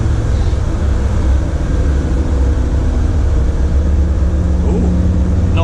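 A Land Rover Defender Td5 diesel engine labours steadily on a hill climb, a loud, continuous low drone with rumbling cabin noise and no talk.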